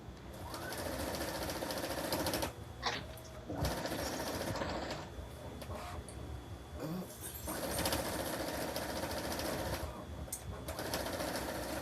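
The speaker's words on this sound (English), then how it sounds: "Then I sew the squares together at 1/4 inch across and then down" A sewing machine stitches quilt squares together with a steady, rapid mechanical chatter. It pauses briefly a few times, and it is recorded close but at low level.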